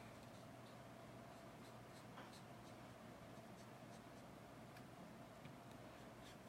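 A marker scratches steadily across paper while coloring a handmade calligraphy card, a soft continuous scribbling with small ticks, close and quiet, with no voices.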